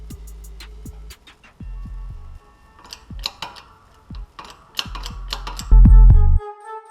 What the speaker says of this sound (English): Now we're just going to press this down just enough to get the C-clip in.